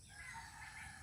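A rooster crows once in the distance, faint against a low background hum.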